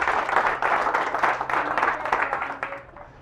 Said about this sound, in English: let's give a big round of applause for our demonstrator, Caleb Kullman.